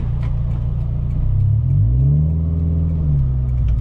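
Inside a 2016 Scion FR-S six-speed manual, the engine rumbles steadily, then revs up into a rising, sustained growl before settling, loud and close with no voices.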